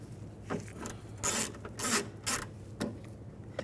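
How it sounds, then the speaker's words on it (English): A 10mm socket working a bolt free through an access hole in a BMW 550i front door: faint, quiet rasping and ratcheting strokes, several short bursts in an uneven rhythm, with no talking. "through the hole here, I'm going to use a 10mm socket."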